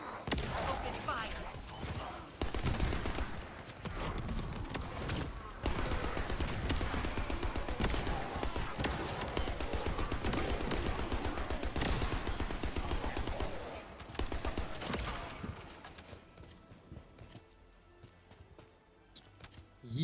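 Sustained automatic gunfire in the sci-fi shooter The First Descendant, loud and continuous rapid shots for about fifteen seconds under faint talk, then tapering off into quieter ambience.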